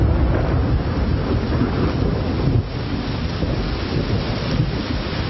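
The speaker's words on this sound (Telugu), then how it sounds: "బాగా వర్షం కురుస్తోంది." Heavy rain pours in a dense, loud, steady roar with rumbling thunder mixed in, continuous throughout and with no voices.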